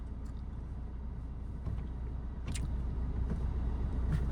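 A car's engine hums at low, steady revs in first gear during a driving lesson, a continuous near rumble that grows slightly louder partway through, with faint higher clicks and no talk.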